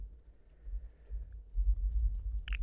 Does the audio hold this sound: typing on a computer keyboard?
yes